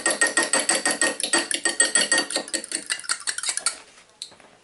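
An egg beaten in a bowl for a milk dip, a fast steady run of close whisking clicks against the bowl that slows and fades near the end.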